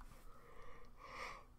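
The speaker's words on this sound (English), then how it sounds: "I have no idea why I keep yawning" A man yawns, a faint, drawn-out breathy exhale that swells toward the end, quiet and close.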